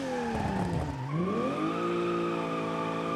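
A Nissan 180SX with an RB26 engine drifts through mountain roads in BeamNG, its engine note dipping then climbing and holding a steady high whine, with tire squeal mixed in, loud and continuous.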